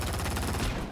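Rapid, loud gunfire in the video game XIII, a dense burst of repeated shots that fills the whole second.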